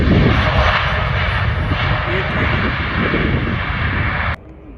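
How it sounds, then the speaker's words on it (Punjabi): A loud, steady aircraft engine roar rumbles throughout as an airliner lands, then drops off sharply near the end, with faint voices mixed underneath. "ਇੱਕ ਹੋਰ ਜਹਾਜ਼ ਲੈਂਡ ਹੋ ਰਿਹਾ"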